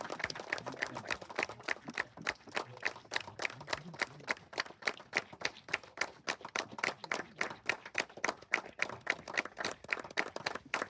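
A crowd at an outdoor public meeting claps for a guest in a quick, steady rhythm, the sharp slaps repeating evenly for about ten seconds at a fairly distant, modest level, with no talk.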